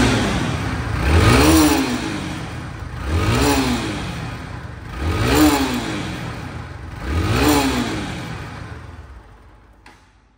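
A Bajaj Pulsar NS 160 motorcycle, second hand, revs four times in steady succession, each blip rising and falling back, loud and close, then cuts to near silence at the end; no talk.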